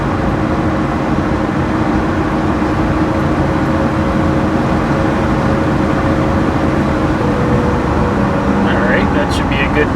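Cabin of a 1986 truck cruising at 75 mph, filled with a loud, constant low road and engine roar with steady tire and wind rumble throughout, and faint squeaks near the end.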